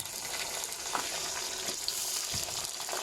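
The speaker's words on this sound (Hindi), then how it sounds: "अभी टमाटर डालेंगे" Tomatoes hit hot oil in a pan while potato pulao is being cooked, giving a steady, quiet sizzle with occasional soft stirring scrapes and small pops.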